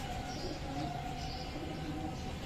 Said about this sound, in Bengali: দেখেন আমার কালো নটটা ডাকতেছে কবুতর